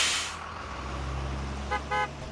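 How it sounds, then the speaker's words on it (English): A bus in the video game Minecraft approaches with a low, steady engine rumble, then sounds two short honks near the end. "Anyway, I hear the bus coming."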